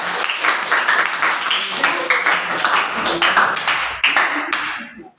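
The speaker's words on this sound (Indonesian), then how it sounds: "Tepuk tangan untuk kelompok 4." A classroom of students claps for a presenting group, loud, dense and fast hand-clapping filling the room for several seconds before it cuts off sharply at the end.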